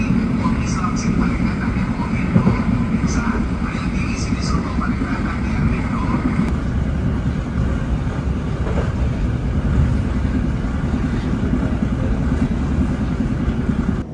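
Singasari passenger train pulling into Caruban station, a steady broadband rumble of wheels and carriage noise throughout, heard from on board with talk over it.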